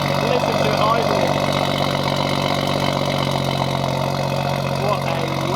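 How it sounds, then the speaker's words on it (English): A loud BMW M140i engine with Stage 2 tuning idles with a steady, rumbling throb that stays constant throughout, close by. "Listen to it idling."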